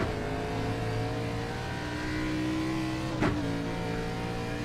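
A NASCAR race car engine in the iRacing sim at Brands Hatch, a steady droning roar held at high revs with a brief upward sweep near the end, heard continuously without talk.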